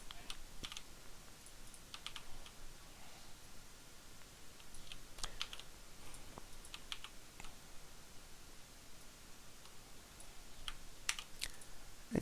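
Light, scattered keystrokes and clicks on a computer keyboard while copying and pasting code, sparse taps spread irregularly over a steady background hiss, fairly quiet and with no one talking.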